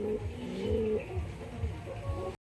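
Pairs of domestic pigeons kept for sale and flying, repeated soft low cooing in rhythmic pulses, close by over a faint background hum, ending abruptly.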